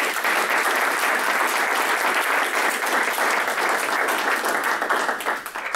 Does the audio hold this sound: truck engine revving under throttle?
no